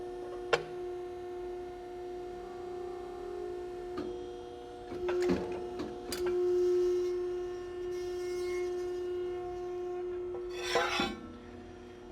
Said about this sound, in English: We're going to step on the foot pedal and we'll bend it around.